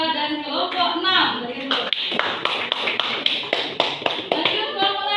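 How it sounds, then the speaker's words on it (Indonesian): In a classroom, a voice talks briefly before students break into clapping for two groups, a run of sharp, fairly rhythmic claps from several hands nearby, slightly uneven and moderately loud. "Kita beri tepuk tangan untuk kelompok 2 dan kelompok 6."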